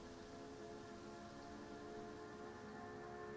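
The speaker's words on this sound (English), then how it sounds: "Rain is definitely pouring here." Steady rain pouring in Gran Turismo 7 during a wet race, a dense, constant hiss of falling water with no voices.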